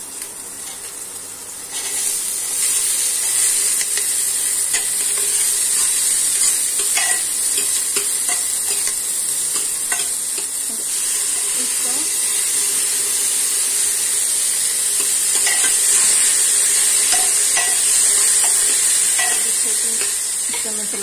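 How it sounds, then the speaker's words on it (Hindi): Garlic, green chilli, onion and tomato frying in ghee for a dhaba-style Rajasthani cluster bean curry, with a steady close sizzle and hiss plus repeated spoon-stirring scrapes throughout, no talking. "जीरा चटकने लगे तब हमें कटा हुआ लहसुन, हरी मिर्च, प्याज और टमाटर डाल देंगे।"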